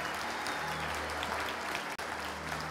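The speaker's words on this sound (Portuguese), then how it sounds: "Vamos dar uma dupla salva de palmas então" A church congregation gives a double round of applause after a sermon, a dense continuous wash of clapping heard at a modest distance, with a brief dropout near the end.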